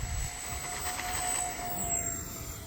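An E-flite A-10 Thunderbolt II RC jet with twin ducted fans lifts off on a takeoff run, giving a steady, even whine with a high tonal line held throughout at moderate loudness, heard alone without talk.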